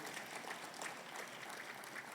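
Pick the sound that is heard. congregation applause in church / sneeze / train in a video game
congregation applause in church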